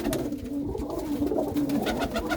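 Pigeons coo in a steady, low, overlapping murmur close by, with soft flutters and shuffling noises layered over it.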